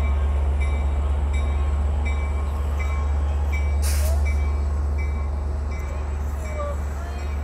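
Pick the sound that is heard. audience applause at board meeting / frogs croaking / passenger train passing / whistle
passenger train passing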